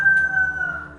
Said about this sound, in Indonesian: Ada ayam Pak Vin.